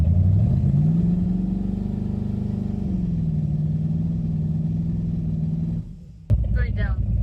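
Twin-turbo big-block Ford Fairmont engine on a test pull on grass, a loud steady drone climbing and holding high revs for several seconds before cutting off abruptly, followed by a brief rising whistle.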